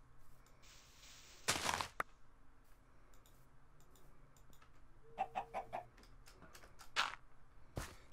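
Video game chickens cluck in short bursts, with a few quick clucks grouped together mid-way, between scattered clicks and sharp game noises over quiet background sound.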